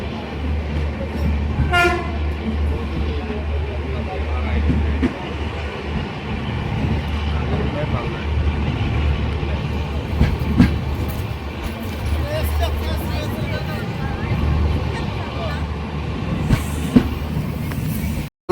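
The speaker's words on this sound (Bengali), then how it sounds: "বালুরঘাট কলকাতা তেভাগা এক্সপ্রেস এই মুহূর্তে নতুন এলএইচবি কোচ নিয়ে প্রবেশ করলো গাজল রেল স্টেশনে" The Balurghat–Kolkata Tebhaga Express with new LHB coaches rolls into Gazol railway station, a loud steady rumble of wheels and coaches with an early horn blast, while people talk over it.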